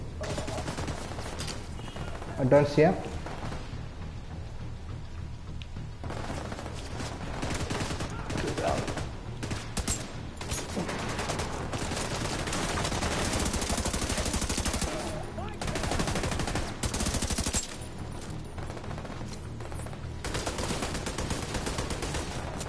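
Sustained gunfire in the video game Tom Clancy's The Division 2, dense rattling automatic bursts with brief lulls and a sharp louder blast early on, while someone talks over the combat.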